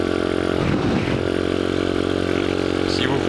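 A restored Dax 125cc Toro motorcycle engine runs steadily and loudly close by, a constant throbbing drone with a brief clattery scrape partway through.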